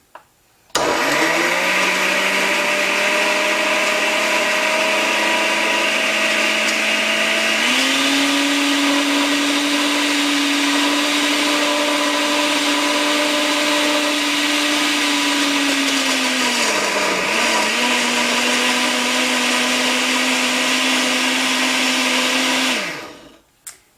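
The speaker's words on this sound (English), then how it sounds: "So I'm going to put that in the blender and then puree it." A blender motor whirs steadily and loudly for over twenty seconds, pureeing yogurt, its pitch rising briefly midway and dipping near the end before cutting off.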